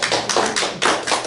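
A small group of women claps together during church announcements, a steady patter of hand claps lasting a moment, fairly close and with no talk over it.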